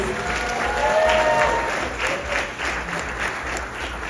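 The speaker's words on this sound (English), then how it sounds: "big round of applause." An audience claps together in steady applause, moderately loud, with a faint murmur of the crowd underneath.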